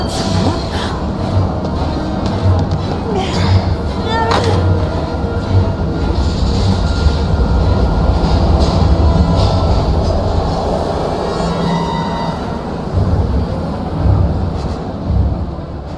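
A train in the video game Heavy Rain rumbles steadily and loudly, with rattling wheels, clattering cars and metallic screeches over a continuous low roar.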